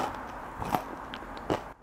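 Crunchy salt and pepper fried Gulf grouper bitten up close, a couple of crisp crackly bites and brief chewing, soft and alone.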